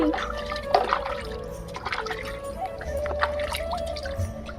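A young boy splashing in bath water, with scattered close splashes, drips and sloshing throughout at moderate level, under background voices.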